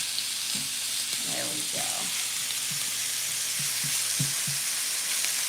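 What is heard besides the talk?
chicken pieces sautéing in a pan for wraps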